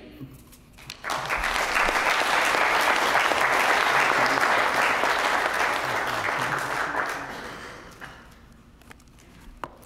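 A speech contest audience breaks into loud, sustained applause that swells after a second, holds steady, then fades out, leaving quiet room tone.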